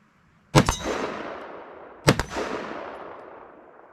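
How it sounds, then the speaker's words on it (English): Two sharp rifle shots of .223 rounds from a Foxtrot Mike Wylde at a range, each a loud close crack followed by a long echoing decay, spaced about one and a half seconds apart. "let's take 2 shots of 223."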